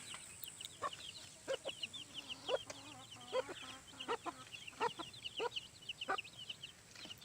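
Small flock of chickens, including Easter Egger hens, clucking in repeated soft bursts with irregular rhythm, fairly faint against a low background hum.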